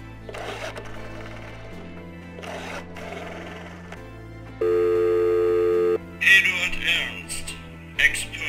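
A telephone rings in a horror adventure game set in an old farmhouse: repeated electronic ring bursts and a sustained tone play over low background music, broken by a few louder bright noises.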